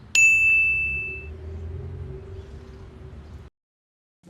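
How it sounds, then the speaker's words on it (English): A single bright bell ding rings out clearly and rings on for about a second over a low hum and rumble that fades, then the sound cuts to silence before a brief new noise. "The first problem is the bell."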